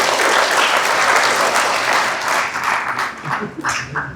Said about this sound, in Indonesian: Tepuk tangan buat wisudawan.